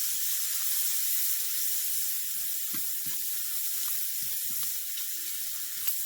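Red onion sizzling steadily in a pan as it caramelizes, a constant bright hiss with small crackles and pops, close and alone.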